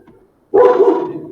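A dog lets out one loud, close bark after a faint whimper, with nothing else around it.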